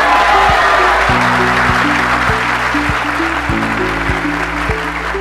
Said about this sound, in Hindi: हर बार हम लोग स्टेज पे आते हैं हमारी तालियां बजाते हैं यार